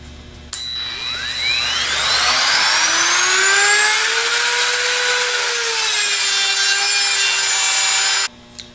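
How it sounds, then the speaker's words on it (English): A Dremel rotary tool cuts through the bearing race of a Bosch alternator, one steady high-pitched grinding whine that starts abruptly, holds loud and close for several seconds with rising and falling pitch, then stops sharply. "use the Dremel to cut it off"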